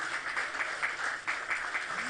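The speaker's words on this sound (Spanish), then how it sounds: "denle un aplauso al Señor, por favor" A church congregation applauds during a Spanish-language sermon, a steady, moderately distant wash of clapping that swells in uneven pulses, with a faint voice underneath.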